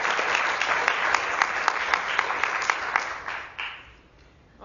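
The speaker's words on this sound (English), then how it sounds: "give them a round of applause" Audience applause at the Bill Ballantine Memorial Lecture, a steady dense clapping that holds for about three seconds, then thins and fades toward the end.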